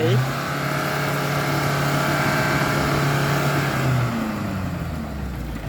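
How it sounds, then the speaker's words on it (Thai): A farm tractor engine runs steadily, pulling a vehicle stuck in mud. It makes a loud, continuous mid-pitched drone with a rising and falling tone, and voices can be heard around it. "ต้อง พึ่งพารถไถ"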